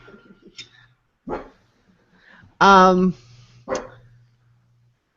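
A dog barks a few times, one bark long and loud, with a person briefly speaking in between.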